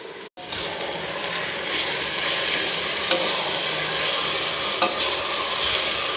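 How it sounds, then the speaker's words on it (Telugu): Chicken sizzles and fries in a pot while being stirred for dum biryani, a steady close hiss with soft scraping throughout, broken by one brief silent gap near the start. "మొత్తం కలిగి తిప్పండి."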